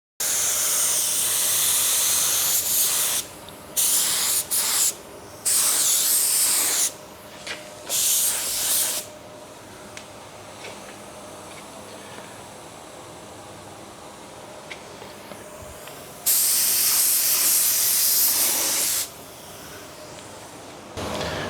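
Spray gun on a small compressor lays down a second coat of cheap paint without a booth, hissing in several long bursts of a few seconds each, separated by short pauses and quieter stretches of background hiss.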